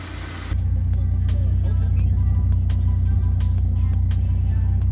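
A Honda Accord CB7 with a rebuilt G23 VTEC engine and its ignition resistor box removed, idling steadily with a smooth, even low rumble close by throughout and no voices.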